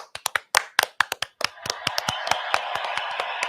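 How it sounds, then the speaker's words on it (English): Small group applauding at a casual podcast taping, starting with a few sharp, separate claps that quickly build into steady, close clapping from several people. "Hey, round of applause for Gracie."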